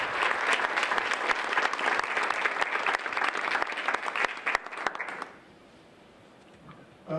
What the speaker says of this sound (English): So can we just give them a big applause?